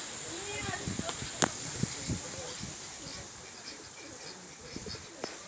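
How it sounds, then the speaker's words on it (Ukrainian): Pigeons cooing softly and repeatedly at close range, with scattered chirps and a voice speaking in the background. "Ось голуби тут такі."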